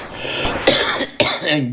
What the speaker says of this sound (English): Sorry about the cough. Seasonal allergies.